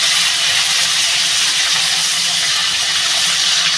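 Pieces of hilsa fish fry in hot oil, giving a loud, steady hiss up close. The sizzle stays even and continuous from start to finish.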